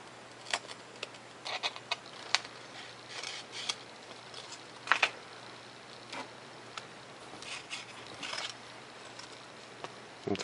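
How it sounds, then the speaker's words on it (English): Blue painter's tape is pulled off the roll and pressed across a part during foam plane assembly, giving a string of quiet ticking crackles and short rips, close and fairly faint, with no talking. "throw some blue painter's tape across here"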